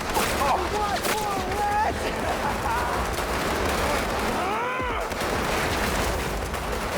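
Gunfire in the video game Cyberpunk 2077 comes as dense, continuous bursts of shots that stay loud across the whole stretch, with game sound effects mixed in.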